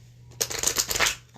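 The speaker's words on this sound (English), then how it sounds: "I've already pre-shuffled the cards, but I'm going to do it again." A deck of tarot cards is shuffled once by hand, a brief, crisp riffling flutter up close that lasts under a second before fading.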